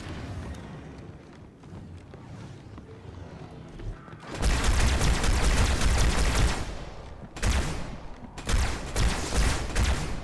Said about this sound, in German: oben links hat's geschossen